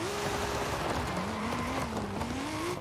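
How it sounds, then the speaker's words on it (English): A Toyota Supra engine in Forza drones steadily while drifting, its pitch rising and sliding as it revs through gears, loud and continuous with no talking. "Sounds like a Supra."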